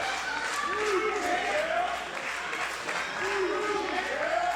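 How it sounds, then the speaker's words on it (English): Wrestling crowd at a live show cheers and applauds in a steady roar, with an announcer's commentary running over the noise throughout. "we're starting to hear the crowd begging and asking"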